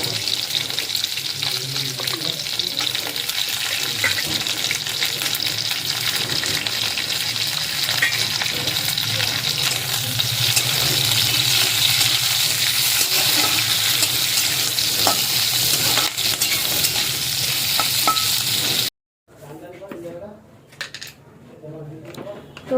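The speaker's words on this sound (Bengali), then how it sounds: "দেখো এখানে আমি সব সবজিগুলোকে ভেজে নিচ্ছি।" Vegetables with capsicum and onions frying in a pan for chilli chicken, a steady loud sizzle with scraping stir strokes throughout, cutting off near the end to quieter clatter.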